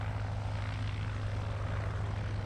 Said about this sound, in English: By process of elimination, the white biplane is the DH-60